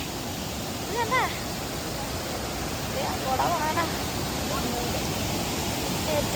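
Continuous roaring rush of falling water fills the scene, with faint voices murmuring over it.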